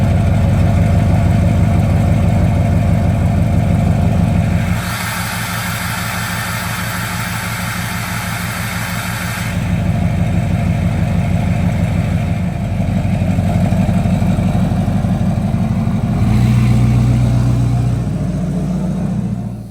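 Duramax diesel pickup truck engine, which had weak batteries, runs loud and close with a deep, steady idle rumble, shifting in tone a few times as it settles, with no talking.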